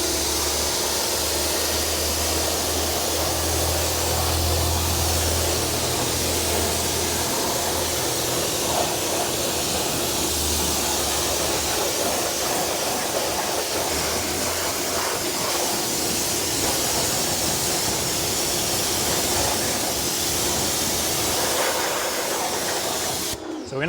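A pressure-washer spray rinses a car wheel and tire, a steady loud broadband hiss that runs almost unbroken for about 24 seconds and cuts off abruptly at the end, with no talking.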